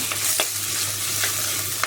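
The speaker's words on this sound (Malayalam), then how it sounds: "ഉള്ളി ആയാലും എന്ത് സാധനം ഇട്ട് കൊടുത്തു കഴിഞ്ഞാൽ ഇതേപോലെ തന്നെ ഇളക്കി കൊടുക്കണം." Crushed red shallots fry in a pan while being stirred, a steady sizzle with a few soft scraping strokes of the spoon across the pan surface, close and continuous with no talking.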